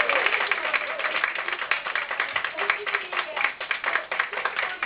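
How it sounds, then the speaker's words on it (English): An audience at a women's comedy show in Dublin claps for themselves in a lively burst of applause. Many individual hand claps crackle close and steady throughout, with a few voices faintly underneath. "I want you to please give yourselves all a massive round of applause"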